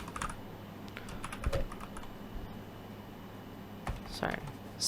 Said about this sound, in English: we're going to type in mv